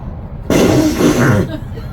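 A man imitates a flatulence noise with his mouth for children at a forest birthday party, making a single loud, buzzing, sputtering burst about a second long against quiet background.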